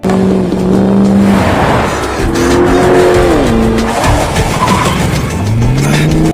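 Cars in a chase across an open field, engines roaring loud and close as tires squeal and skid in long rising and falling whines, continuous throughout with no talk.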